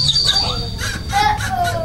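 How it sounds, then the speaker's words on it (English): Pet birds squawking and calling close by, a couple of shrill whistling squawks and chirps over a low background hum, brief and fairly loud. "Look, I can hear the birds now."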